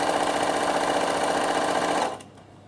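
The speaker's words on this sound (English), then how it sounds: "I'm just going to sew down here" A domestic sewing machine stitching fabric, a fast, even mechanical whirring close by for about two seconds before stopping abruptly, leaving quiet room sound.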